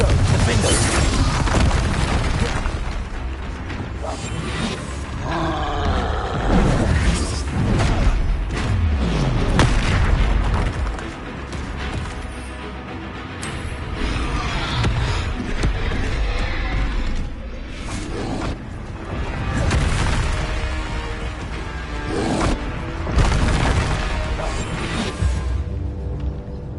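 Spell combat in Hogwarts Legacy with a Confringo fire-blast spell, loud booming explosions and whooshing magic bursts repeating throughout over a dense game soundtrack and effects, with some voice mixed in.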